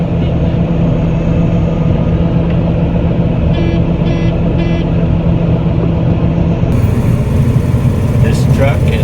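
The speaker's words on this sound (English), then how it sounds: "what you're looking at is a 98 Peterbilt." A 1998 Peterbilt truck from Oklahoma idles with a steady, loud, low diesel rumble that holds constant throughout, with a faint rhythmic ticking partway through and a brief shift in tone near the end.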